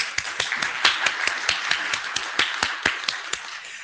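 An audience at a conference session gives scattered, light applause: sparse individual claps at an irregular rhythm, close and moderately loud, with no voices.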